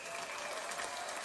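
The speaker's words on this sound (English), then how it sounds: "Everyone, please give Eric a round of applause." Faint, steady applause from an audience at a talk on life after incarceration, a dense wash of distant clapping that holds evenly for about a second.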